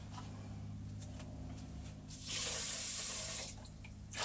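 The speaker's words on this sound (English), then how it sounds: "So we have to wash the rice at least" Water runs steadily from a kitchen tap while rice is washed, growing louder and splashier midway as the flow hits the rice and pot, over a low background hum.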